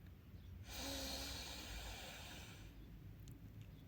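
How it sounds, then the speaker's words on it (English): One person taking a long, deep inhale through the nose during a 4-6 breathing exercise, a close, soft rushing breath that swells and holds steady for about two seconds before fading. "Breathe in."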